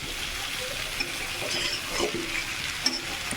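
Cauliflower, potato and fish curry being stirred while frying in oil, a steady close sizzle with soft scraping stir strokes and a few small clinks.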